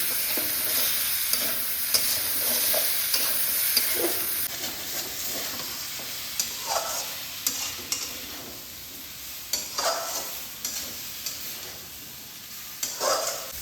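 Drumstick stalks are sautéed with spice paste in an oiled pan, producing a continuous sizzle and hiss broken by sharp spatula scrapes and knocks, close up and with no voices.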